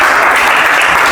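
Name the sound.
audience applause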